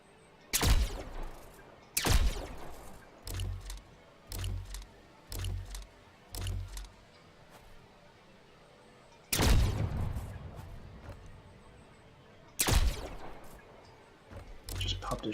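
Gunfire in The Signal From Tolva video game: loud, sharp shots and short bursts ring out irregularly, some decaying with a long echoing tail, with quieter gaps between them.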